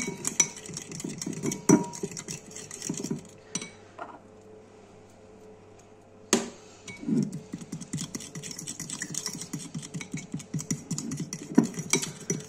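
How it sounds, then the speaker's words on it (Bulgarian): A castor oil hair mask stirred in a bowl, giving a busy run of close clinks and scrapes of a utensil against the bowl that stops briefly twice before it resumes, with no talking. "Сега разбъркваме добре."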